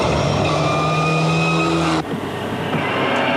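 A Mitsubishi rally car runs a special stage at Rally Rotorua in the 2001 New Zealand Rally Championship, its engine a loud, steady, droning note that cuts off abruptly partway, leaving a quieter background.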